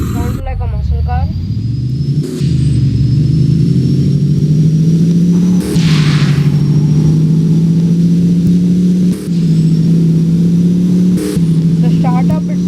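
A truck engine in the game Driving Empire drones while driving, a loud steady mid-pitched hum that shifts slightly with several brief gear-change dips. A voice talks at the start and again at the end.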